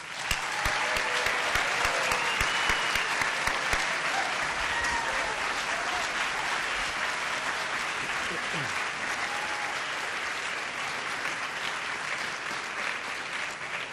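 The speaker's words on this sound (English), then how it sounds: "So if we could give our graduates a big round of applause." An audience at a university mathematics undergraduate commencement gives the graduates sustained applause, steady dense clapping that holds evenly for the whole stretch.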